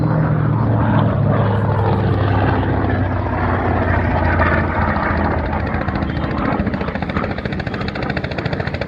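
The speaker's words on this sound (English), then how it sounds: "The fantastic Wright 2600 Cyclone engine here." The Wright R-2600 Cyclone radial engine of a Grumman Avenger at an airshow drones steadily with a deep rumbling roar and throbbing propeller beat, continuous and close throughout.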